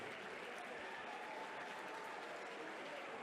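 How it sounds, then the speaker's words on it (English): Steady crowd applause and cheering at an XFC MMA event for two fighters after a fight went the distance, a dense continuous roar of clapping filling the arena without letup. "How about a big round of applause for our 2 fighters?"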